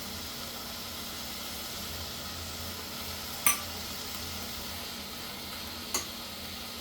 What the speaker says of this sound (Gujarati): હવે આ હલવો થોડો તૈયાર થઈ ગયો છે. એમાં નાખશું આપણે એલચી પાવડર.